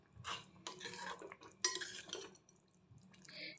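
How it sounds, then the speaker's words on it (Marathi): Metal spoon stirring peas and matki curry with fresh coriander in a pan, a few close scraping clinks and soft wet stirring strokes in short bursts, with no talking. "सगळ्यात शेवटी कोथिंबीर घालायचा आणि मिक्स करून घ्यायचं."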